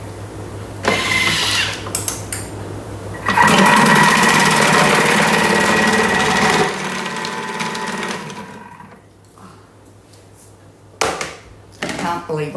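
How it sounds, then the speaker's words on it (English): A Thermomix grates food in a kitchen, giving a loud, steady mechanical whir that runs for about three seconds, then winds down and stops, with a brief short burst near the end. "Now we're going to grate this thick."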